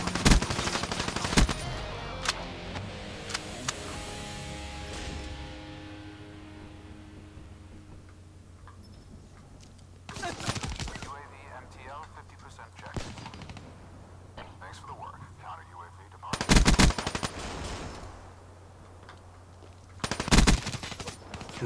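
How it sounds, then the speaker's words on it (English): Bursts of automatic gunfire in the shooter game Black Ops 3, loud rapid volleys at the start, then short separate bursts spaced several seconds apart over game ambience. "Why did I stop firing?"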